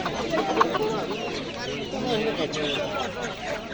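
Chickens and roosters cluck and chatter continuously at a poultry market, a dense nearby flock under a voice talking.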